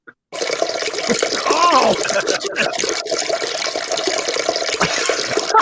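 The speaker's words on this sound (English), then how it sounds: "Don't forget the flush" Toilet flushing in a bathroom, a sudden loud rushing gush of water that continues steadily and close by for several seconds, with a brief exclamation near the start.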